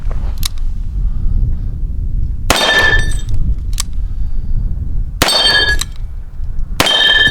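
A Smith & Wesson Model 10 .38 Special revolver fires three sharp, loud shots with ringing metallic tails, spaced a couple of seconds apart over a steady low background rumble, with a couple of fainter clicks in between.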